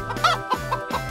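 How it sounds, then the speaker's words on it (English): A chicken clucks several times in quick succession, close and clear, each cluck short and tonal with small gaps between them. "Chicken."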